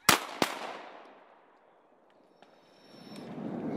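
Two sharp shotgun blasts ring out in quick succession during a duck hunt, loud and close, each trailing off into a fading echo, followed by quiet outdoor ambience and a low rising rush of wind or water.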